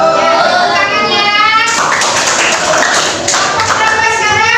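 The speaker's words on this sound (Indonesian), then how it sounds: "Ya, tepuk tangannya." A burst of scattered clapping from a classroom full of people, loud and fairly close, with a few children's voices mixed in.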